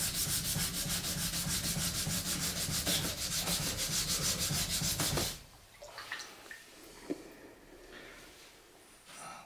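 Katana blade sanded with sandpaper by hand, rapid rhythmic back-and-forth rasping strokes, loud and close, stopping abruptly halfway, followed by quieter scattered handling taps and scrapes.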